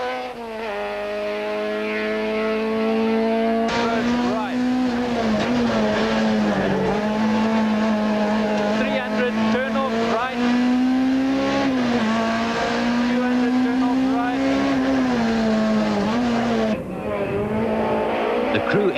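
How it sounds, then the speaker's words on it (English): A 1994 VW Golf Synchro rally car is driven hard along a stage, its engine droning loudly and steadily with rising and falling pitch through gear changes, and a brief dip near the end before the roar resumes. "Split-second reflexes are needed to keep the car under control as Jan pushes his Golf Synchro to the"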